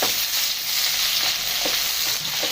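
Ginger garlic paste sizzling in a hot pan while being stirred for chicken liver masala, a loud continuous bright frying hiss with soft periodic spatula scrapes, close up and without speech.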